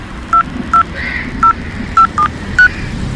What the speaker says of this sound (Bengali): রাকাকে ফোন করাটা সেরে নেওয়া দরকার